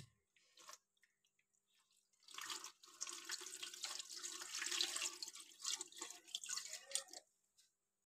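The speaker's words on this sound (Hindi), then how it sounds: "तो अब इसमें डाल देते हैं पानी" Fresh water poured into a parrot fish tank, a close splashing, gurgling pour that starts after a quiet opening, runs steadily for several seconds, then stops.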